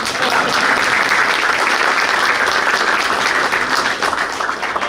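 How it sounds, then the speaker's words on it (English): Loud, sustained applause fills the room at a Baldwinsville boys varsity basketball banquet, many hands clapping steadily and close for about five seconds with no pause. "so clap it up for her"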